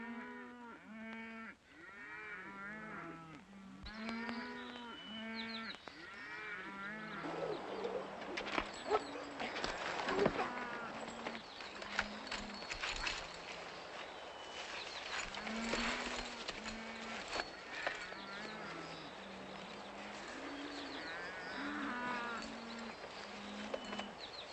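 A cattle herd in a 1943 Hopalong Cassidy western film moos again and again, with many overlapping low calls that continue for the whole clip at a moderate distance. Softer bird calls also sound in the background.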